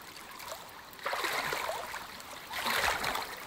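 Wading through water in the survival game Icarus gives two bursts of swishing, splashing water, each lasting about a second or more over a quiet watery background, close and unaccompanied by talk.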